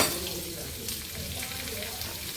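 Raw green mango pieces go into a hot frying pan and sizzle in a steady, fairly loud hiss with some stirring scrape, and a voice talks over the cooking.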